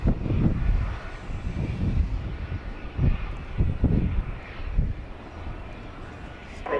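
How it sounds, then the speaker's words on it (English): A Boeing 737-700 airliner on final approach at Dallas Love Field, its engines a steady, distant roar under wind noise, with people talking nearby. "737-700. Now on final approach"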